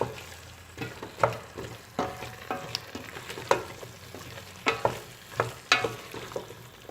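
Carrots simmering in an arrowroot vegetable soup while being stirred, a quiet bubbling hiss broken by repeated scraping and clinking strokes of a utensil in the pot, close and unaccompanied by speech.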